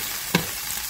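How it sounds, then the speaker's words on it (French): Fresh tomato added to hot oil in a Congolese catfish dish (liboke na nzungu) gives a brief, faint sizzle under a steady low frying hiss, with no voices. "Je rajoute maintenant ma tomate fraîche."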